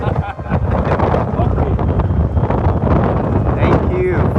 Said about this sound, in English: Wind wants to blow me away.